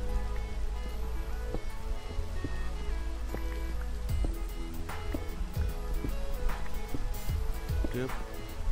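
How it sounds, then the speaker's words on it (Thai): Steady rain falls in the Minecraft video game, a dense continuous patter with scattered drop ticks under someone talking throughout. "ฝนตกด้วยนะ"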